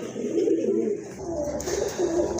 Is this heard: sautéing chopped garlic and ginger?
no